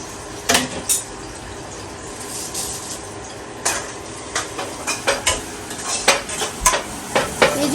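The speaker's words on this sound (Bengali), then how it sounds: "এখন আমি এটা একদম ভাজা ভাজা করে নেবো পেঁয়াজ রসুন মরিচ" Onion, garlic and chili fry in oil in a pan, with a low sizzle under repeated clanks and scrapes of a spatula stirring against the metal, growing busier toward the end.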